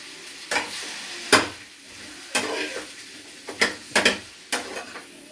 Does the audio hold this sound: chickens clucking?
no